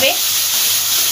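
Tomato paste fries in oil, giving a loud, steady sizzling hiss with a faint stir scrape at the start, heard alone without speech.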